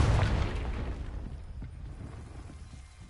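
A Confringo blasting spell explodes in Hogwarts Legacy, a loud, close boom with a heavy low-end burst that rolls off into a rumbling, fading tail over about three seconds.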